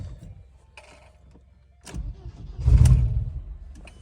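A 2004 Audi A4 B6 with the 1.8T turbo engine is started for the first time after its ignition harness was rewired: a few faint clicks, a short crank, then the engine catches with a loud rumble that holds.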